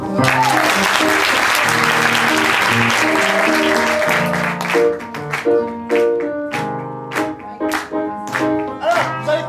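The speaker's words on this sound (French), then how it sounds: "On peut applaudir Tom." An audience applauds loudly, a dense wash of clapping that thins into scattered individual claps toward the end.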